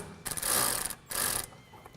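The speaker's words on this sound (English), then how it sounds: "So we're going to go ahead and tighten the 2 bottom bolts" A ratchet tightens master cylinder mounting bolts in a garage, giving two close, buzzing clicking strokes, each lasting under a second, separated by a brief pause.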